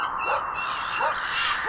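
Sled dogs staked on their lines on frozen tundra give two short, high yips or whiny barks in quick succession, close by, with no talk.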